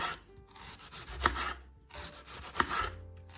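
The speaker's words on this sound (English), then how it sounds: "Slice my onions." A knife slices onions on a cutting board with two bursts of rubbing, chopping strokes, each ending in a sharp tap, close and fairly quiet, with no talking.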